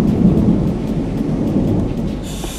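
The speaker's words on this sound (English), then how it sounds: "The rain is coming, bros. The rain is coming hard," A rumble of thunder rolls over a steady wash of heavy rain arriving outdoors, loud and continuous, with no voices.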